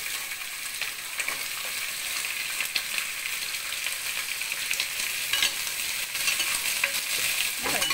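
Onions frying in a pot for plain kuska biryani give a steady, close, bright sizzle with occasional stirring scrapes throughout, no talking.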